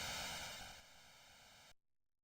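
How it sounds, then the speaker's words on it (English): A steady hiss of static-like white noise stands in for ocean waves in an NES video game. It swells slightly at first, holds for close to two seconds, then cuts off into near silence. "Got some white noise waves."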